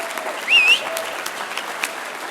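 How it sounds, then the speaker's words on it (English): An audience applauds steadily for a colleague's birthday at an eXp UK agents' event. The dense, even clapping fills the room, and a brief whistle or cheer rises over it early on. "if you all give her a big round of applause"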